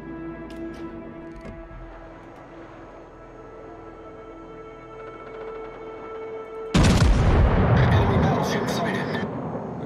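Heavy naval guns boom from a warship in World of Warships, a sudden loud broadband blast with rumbling decay that dominates after a quieter stretch of engine and ambient hum, with a voice talking underneath.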